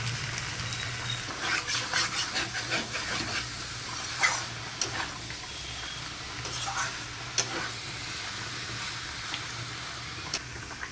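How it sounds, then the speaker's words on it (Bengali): Cauliflower is tipped into a pan of frying potatoes for a posto dish, and a soft continuous sizzle follows with intermittent stirring scrapes and utensil knocks, fairly quiet and close. "আলুটা ভাজা হয়ে গেছে, এর মধ্যে আমি ফুলকপিটা ঢেলে দিলাম"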